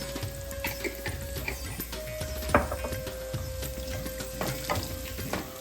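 A vegetable mixture with sesame seeds sizzles steadily in a pan as a spoon scrapes and taps through it in irregular strokes, close and moderately loud.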